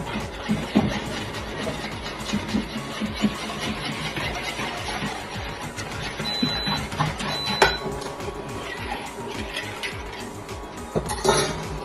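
Egg yolks and sugar mixed by hand in a bowl for a coffee cream, with repeated clinks and scraping of a utensil against the bowl in an uneven rhythm, close and moderately loud, no talking.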